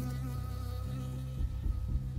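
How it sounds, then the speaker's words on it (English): A swarm of bees in the video game Firewatch, a close, loud, steady droning buzz with faint thumps toward the end and no speech. "Oh, the bees!"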